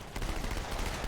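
Rapid pistol fire in Halo 2, a dense, loud stream of sharp shots crackling in quick succession for about a second.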